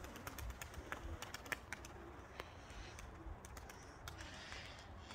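Soft pigeon cooing against a steady outdoor background, with scattered bird calls and rustling throughout.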